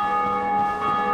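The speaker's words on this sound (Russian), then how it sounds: "Я слышу звук колокола." A bell in the video game Dark Souls: Remastered gives a brief, sustained metallic ring with lingering tonal overtones, fairly clear and steady, with no talk over it.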